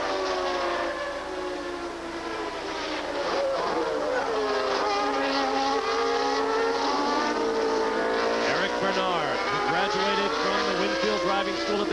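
Formula One race cars at the 1990 French Grand Prix, their high-revving engines wailing steadily and loudly throughout, with pitch shifting as the cars pass and change speed.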